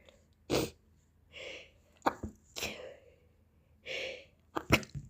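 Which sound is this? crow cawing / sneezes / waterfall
sneezes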